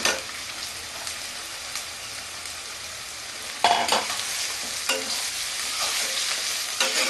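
Onions fry for beresta for Bengali-style chicken biryani, with a continuous close sizzle and scraping stirs that grow louder partway through, and no talk.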